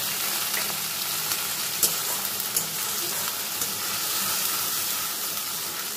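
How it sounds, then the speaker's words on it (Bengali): Jeera and coriander paste with a little water stirred in hot oil in a pan for a vegetarian soybean and pea kofta curry, a steady close sizzle with occasional scraping clicks, no voices. "তেলের মধ্যে মশলাটা একটু নাড়াচাড়া করে"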